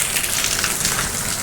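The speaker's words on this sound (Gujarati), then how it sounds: "બહુ વરસાદ છે" Heavy rain pours steadily onto a home courtyard, a dense, even hiss with no break and no voices.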